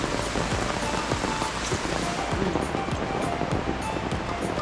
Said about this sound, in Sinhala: මාර වැස්සක් වහින්න.